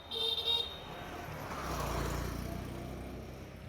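A motor vehicle passes close by, a short horn toot at the start followed by a swelling then fading engine whoosh as it drives over a broken speed breaker on a road.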